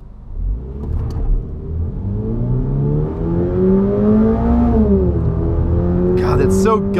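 A 2022 Subaru BRZ accelerates hard from a standstill: a loud, close engine note climbs steadily, dips sharply at a gear change, then pulls upward again.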